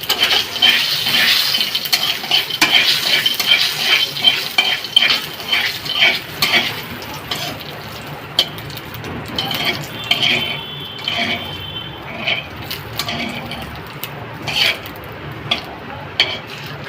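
Mustard seeds mixed with salt frying in a pan, a steady close crackle and sizzle with repeated scraping stirs that fade a little toward the end.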